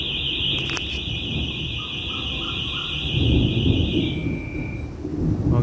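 ADT door alarm sounding a loud steady high electronic tone for about four seconds before cutting off, with background rumble and handling noise.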